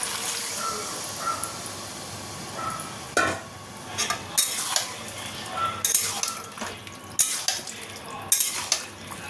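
Chilli chicken with sauces stirred in a large wok: a spatula scrapes and clanks against the metal in irregular strokes over a soft, continuous sizzle, close up and with no talking.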